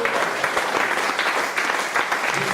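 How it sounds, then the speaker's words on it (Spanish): A church congregation applauds during a sermon, close, lively clapping with distinct individual hand claps standing out over the continuous patter. "Denle un aplauso a la gloria de Dios."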